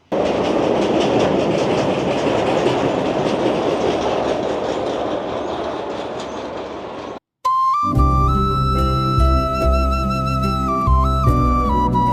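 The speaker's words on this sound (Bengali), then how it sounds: "লেট হওয়ার পর আরেকটা ট্রেন আসবে" A train rumbles and clatters past, loud and steady for several seconds, then the sound cuts abruptly to music.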